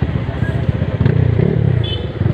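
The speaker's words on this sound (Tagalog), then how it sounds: "Kaya mga motor lang muna makadaan, oh." Motorcycle engines putter and rev past on a rainy road damaged by a landslide, a close, pulsing rumble with talk over it.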